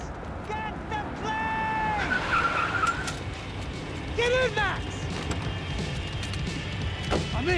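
In the Max Payne video game, a car engine revs while tires screech and skid repeatedly in sharp squeals, with mechanical clanks and creaks, all under tense voices talking.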